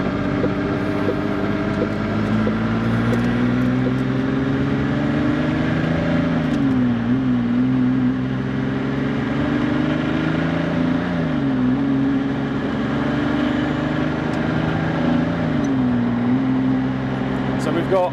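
A Ferrari F50 manual sports car drives at a steady pace, its engine humming loudly inside the cabin and dipping briefly at each of a few gear changes, with a voice talking over it.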